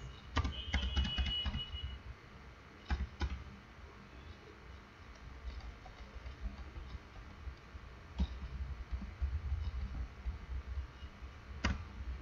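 A computer keyboard is tapped in short irregular bursts of quiet clicking keystrokes, with scattered single key presses and low background hum in between.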